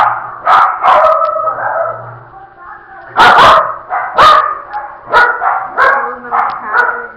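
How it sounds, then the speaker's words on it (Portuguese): Several dogs bark repeatedly at close range, loud yips and woofs in irregular bursts, with a person talking among them. "Deixa os cachorros parar."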